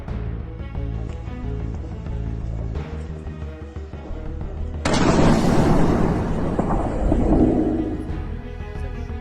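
Heavy explosions and rumbling blasts from the bombardment of Ukrainian cities during the Russian invasion, a continuous loud roar that swells into a bigger burst midway and keeps rumbling afterward.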